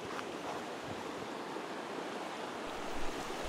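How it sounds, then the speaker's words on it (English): Runoff from Excelsior geyser crater at Yellowstone spilling into a river over small waterfalls, a steady broad rush of water with some wind buffeting, continuous and fairly loud with no voices. "Here we have an interesting shot of the Excelsior geyser crater draining into a river"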